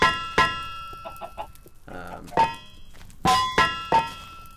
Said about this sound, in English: These chickens are really obnoxious.